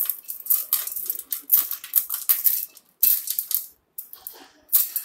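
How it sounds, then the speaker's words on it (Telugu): A spoon scraping and clinking against a bowl while mixing snack ingredients with a tablespoon of oil, a close, steady run of bright metallic taps and scrapes with brief pauses, no talking. "1 టేబుల్ స్పూన్ ఆయిల్ అండ్ వీటిని బాగా మనం మిక్స్ చేసుకోవాలి"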